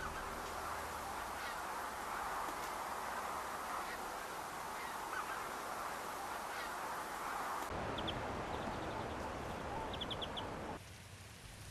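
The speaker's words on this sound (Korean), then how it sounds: "주변에 가득한 새들의 소리와 움직임이 삭을 자극합니다." A dense chorus of birds calling at dusk from many directions, with honking waterfowl and scattered chirps, steady and moderately distant, with no talking.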